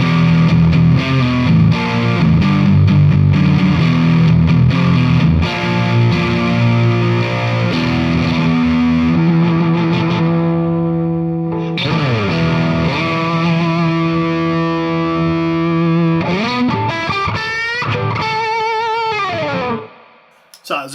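A heavily distorted electric guitar plays loud sustained chords and riffs, thick and saturated throughout, ending with a quick slide and abrupt cutoff.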